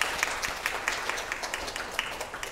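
Congregation at a Presbyterian church worship service applauding, a soft, steady patter of many hands with scattered sharper claps, fairly quiet and with no talking over it.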